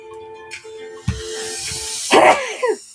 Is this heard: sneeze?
yes